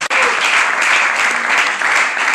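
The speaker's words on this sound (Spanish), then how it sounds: "Dale fuerte el aplauso." A church congregation breaks into loud, sustained applause at a worship service, dense clapping that continues evenly throughout with no talk over it.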